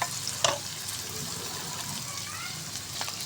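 Onions fry close up in a pan with a steady sizzle and hiss, broken by a couple of sharp utensil knocks and clicks over the few seconds.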